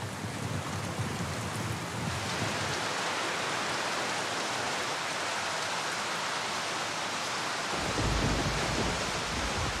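Steady rain pours down on a house with a leaking roof in a Filipino coastal community, a dense continuous hiss filling the whole span, with a slight shift in texture near the end and no voices.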